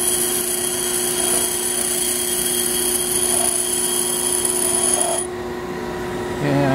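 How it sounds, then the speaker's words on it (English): A bench grinder steadily grinds a fly cutting tool bit with a continuous, loud, whining hiss that cuts off near the end, leaving quieter room noise before a brief louder bump. "You can see that it's a fast, pretty fast grind."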